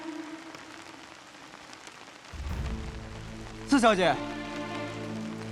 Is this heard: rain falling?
yes